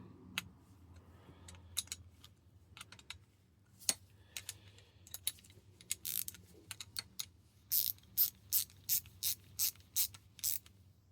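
Grease nipple with 3/8-24 UNF thread turned by a small ratchet into the brake hydraulic fitting of a 1961 Triumph TR3A, quiet irregular clicks becoming a steady run of sharp ratchet ticks near the end.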